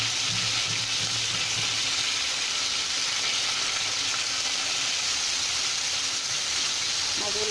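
Fish frying in oil in a pan for a Bengali fish-head curry with potatoes and drumsticks: a steady, loud, close hissing sizzle that runs unbroken, with a low hum underneath.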